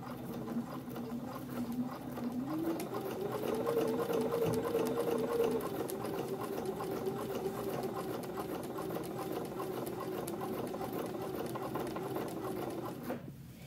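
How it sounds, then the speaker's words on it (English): A sewing machine stitches a curved basting line along a shirt sleeve while a button-down shirt is upcycled into an off-the-shoulder top; a steady, close mechanical whir runs unbroken for the whole stretch, with no talking. "When sewing that basting line for the sleeve, if you choose to do it this way, it's curved."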